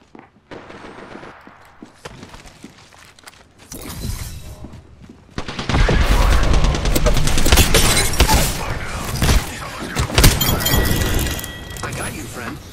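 Video game gunfire starts with scattered sharp cracks, then breaks into loud, dense automatic bursts and rapid volleys. Voices talk over the shooting.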